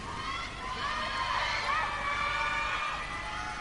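A large concert crowd cheers and shouts for the singer, a steady roar of voices and whoops that swells a little midway and carries through the whole stretch.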